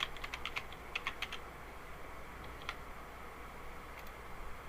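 Rapid bursts of computer keyboard typing at the start, then a few scattered keystrokes later, set against a steady low hum in a quiet room.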